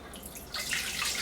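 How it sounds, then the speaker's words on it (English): Tap water pours into an Insignia 6 quart pressure cooker, a soft trickle that swells into a brighter splashing stream about halfway through, close and fairly quiet with no talking. "I'm just going to take a little bit of tap water. Not too much. Maybe about a cup or so."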